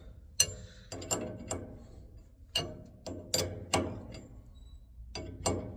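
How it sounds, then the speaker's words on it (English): A 7/8 wrench tightening hydraulic hose fittings on a Herd seeder hydraulic motor kit, giving close, sharp metallic clicks and clanks in irregular groups over a quiet background, without speech. "go ahead and grab your 7/8 wrench and just go ahead and start tightening everything down"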